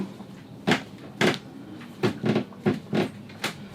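Wooden plank creaking on a sailboat, heard as seven short broadband creaks and knocks at irregular intervals, fairly close and loud, with no talking.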